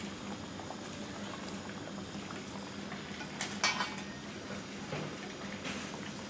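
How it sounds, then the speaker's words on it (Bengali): Rice boiling over in a pot on a home stove, a steady bubbling wash with a few brief clinks of utensils partway through, close and moderately loud, no talking. "দেখো কত তাড়াতাড়ি ভাতের উতাল চলে এসেছে"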